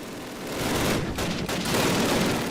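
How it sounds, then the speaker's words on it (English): A mounted machine gun firing in the original Call of Duty, a sustained, loud, rapid burst of shots that runs almost unbroken for a couple of seconds over a thick low rumble. "I can hop on this MG and take out the flak gun"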